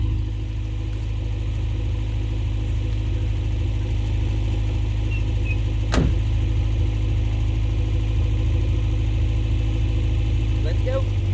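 A 1979 Subaru engine that sat unused for years idles with a steady, low, rumbling drone and one brief sharp transient partway through. People talk nearby.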